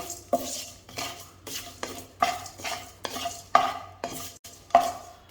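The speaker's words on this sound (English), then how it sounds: "So I'm roasting the spices in salt." Whole spices, including black cardamom seeds, being roasted in salt in a dry pan for homemade garam masala: repeated scraping stirs with a metal utensil against the pan, a gritty rhythmic rattle of salt and seeds, close and clear with no talk.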